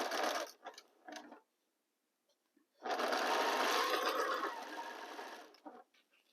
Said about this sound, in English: let me reorganize again and continue sewing